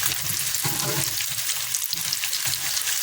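Homemade fish fingers sizzle steadily in a pan over low heat, a continuous close crackle and hiss with faint stirring, no talking.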